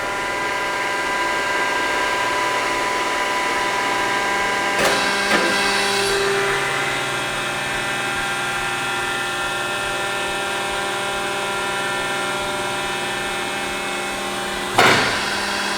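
A 200-ton Sutherland 4-post hydraulic press in excellent condition running a cycle, with a steady, droning hydraulic hum and whine, and a few sharp clunks near the start and end.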